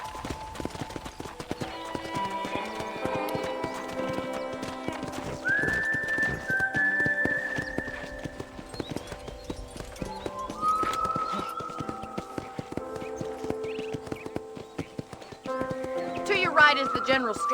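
Steady horse hoofbeats clop along at an easy walking pace under the soundtrack of the video game Red Dead Redemption, with occasional whistling tones and bird chirps drifting over the top.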